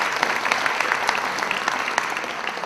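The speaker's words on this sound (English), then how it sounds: "Let's give them a big round of applause." Steady, dense clapping from a large crowd, loud and continuous throughout with no pauses.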